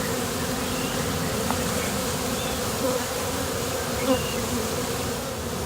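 A swarm of honey bees fans and settles into a box during a swarm removal, making a dense, steady buzzing drone that fills the whole clip at close range, with no voices.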